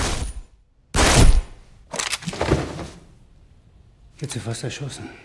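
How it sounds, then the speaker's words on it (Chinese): Gunfire in a film shootout, as a bodyguard and a waiter fire at the same moment: a sharp loud burst followed by a second crack with a ringing tail, then short metallic clatter after a pause. "两人同时开枪，但保镖的子弹更快"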